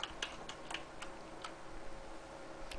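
A web address is typed on a computer keyboard, with a string of faint, irregular key clicks in a quiet room and no voices.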